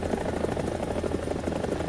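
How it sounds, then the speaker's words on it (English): A Mi-28NM attack helicopter in the War Thunder combat game makes a loud, continuous rotor thrum and engine drone, steady and close for a brief moment. "So the Mi-28 is just another in a line of very good Soviet helicopters."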